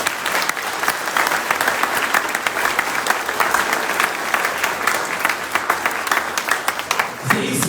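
A church congregation applauds loudly and continuously, dense clapping from many hands that holds steady before easing off at the very end.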